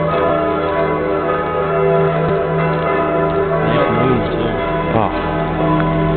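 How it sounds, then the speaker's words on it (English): Many church bells peal together across Salzburg at night during Christmas, a continuous layered ringing that holds steady and fairly loud, with a faint voice briefly audible beneath. "Lots of bells."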